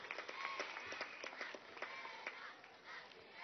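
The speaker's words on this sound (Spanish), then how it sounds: "Un aplauso a su valentía y de su compañero de vida" Crowd applause at a Women's Day march rally in Venezuela, rapid overlapping claps forming a steady, distant wash that thins slightly toward the end.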